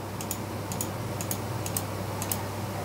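Computer keyboard keys pressed while saving code, a few crisp, close clicks in quick pairs, spaced evenly over a low steady hum.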